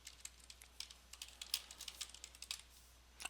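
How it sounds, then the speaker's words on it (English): Quick, irregular keystrokes clatter on a computer keyboard, close and clear, in bursts with short pauses and no talking. "Let me type it out."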